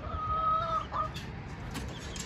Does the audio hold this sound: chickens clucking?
yes